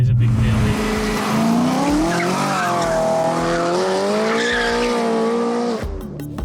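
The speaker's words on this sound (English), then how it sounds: "we've got the last produced, naturally aspirated V8 that BMW ever made" A BMW naturally aspirated V8 sings as the car is driven hard, its pitch climbing and falling through sustained revs with tire squeal over the top, loud and close before cutting off sharply at the end.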